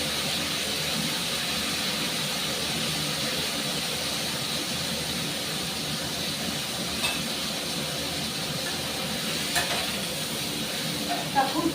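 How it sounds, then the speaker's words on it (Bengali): Cauliflower and potatoes fry in a pan with salt and turmeric, giving a constant close sizzle and hiss. Occasional stirring scrapes break through near the end. "ফুলকপি আলুটাকে বন্ধুরা খুব ভালো মতন আমি একটু লাল লাল করে ভেজে নেব"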